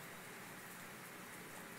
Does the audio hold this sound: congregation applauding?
no